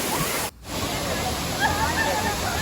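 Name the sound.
Thirparappu waterfall, Kanyakumari district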